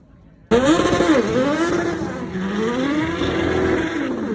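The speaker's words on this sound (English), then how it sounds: "This is the Hayabusa powered tuk-tuk." A tuk-tuk powered by a Hayabusa motorcycle engine bursts into loud revving after a quiet moment, its high engine note rising and falling over several seconds before cutting off abruptly.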